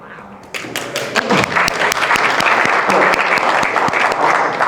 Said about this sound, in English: We left a good pause for the applause, right?